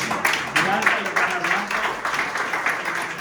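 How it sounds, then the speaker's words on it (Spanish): Applause from a church congregation at a baptism service, a dense wash of clapping that holds steady throughout, with voices mixed in underneath. "Así debe ser, amén. Un fuerte aplauso para"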